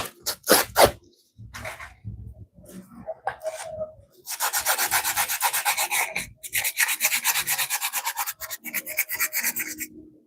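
Sandpaper rubs back and forth over a ceramic light switch cover, stripping old paint in two long bursts of steady, rhythmic rasping strokes, close and fairly loud, after a few brief scrapes and taps at the start.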